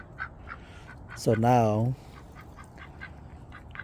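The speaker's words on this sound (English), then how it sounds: "So yeah, I separate my ducks over here." A single loud quack from a 10-week-old black Muscovy duckling rises over brief speech, with fainter quacks and peeps scattered before and after.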